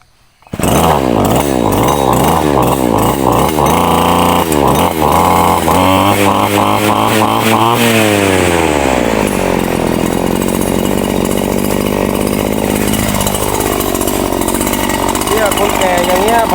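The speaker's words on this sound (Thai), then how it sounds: "ไป ตัดหญ้า" Gas-powered grass trimmer revving in repeated loud bursts up close, then holding a continuous high-pitched whine as it cuts grass, with pitch dipping and rising under load.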